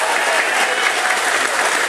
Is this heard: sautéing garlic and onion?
no